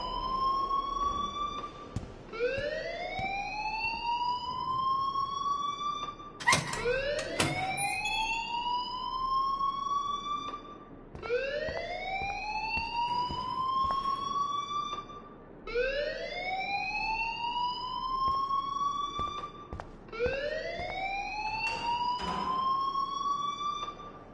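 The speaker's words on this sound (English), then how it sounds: "please turn off that alarm since that's your job." An electronic alarm blares inside a building in the Life is Strange video game, a rising whooping tone that repeats about every four to five seconds, loud and continuous with a few sharp clicks mixed in.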